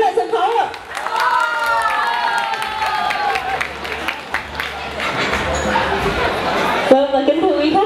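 An audience at a restaurant event in Vietnam claps and cheers to welcome a family onto the stage, with steady applause and crowd chatter running throughout while a host speaks over it.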